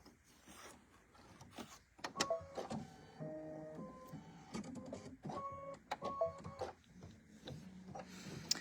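An embroidery machine stitches a decorative satin-stitch design on a fabric mixer motif, buzzing and whirring up close in rapid mechanical bursts with shifting motor tones and small clicks, no voices.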